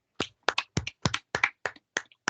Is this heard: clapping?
yes